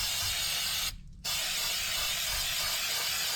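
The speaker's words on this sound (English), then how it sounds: "Now we sprayed all those inner parts, and then go and spray like that." Fluid Film rust-proofing spray applied to the underbody of a Mitsubishi Delica, a loud continuous aerosol hiss close by, broken once by a brief pause before the spraying resumes.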